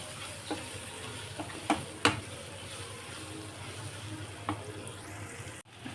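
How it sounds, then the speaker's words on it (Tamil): Pasta masala paste stirred in a pan, a soft steady sizzle with a few sharp scraping clicks from the utensil, close and fairly quiet with no talking. "நல்லா மிக்ஸ் பண்ணி விட்டுக்கலாம்."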